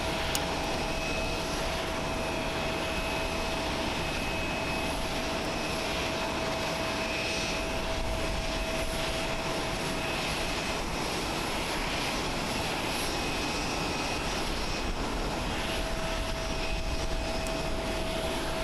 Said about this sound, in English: This is All Nippon Airways Flight 748 coming in from NTQ.